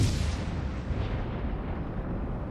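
Heavy naval gunfire rumbles from a World of Warships Legends battle, the Siegfried among the ships, as a dense, sustained low boom rolls on without a break and with no distinct separate shots.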